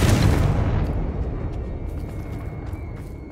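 A single loud explosion from the Confringo spell in the Hogwarts Legacy video game: a heavy boom that rolls off and decays over a few seconds, with a faint tone lingering after.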